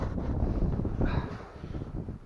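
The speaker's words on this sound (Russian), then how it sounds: "Ветер, конечно, не утих." Strong wind buffets the microphone in low, constant rumbling gusts while fishing for pike from a small boat, with faint rustling and no talk.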